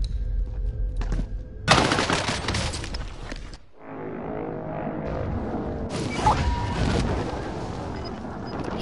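Gunfire in a multiplayer shooter game, loud dense bursts of rapid shots and blasts, with a short lull before another sustained volley of firing.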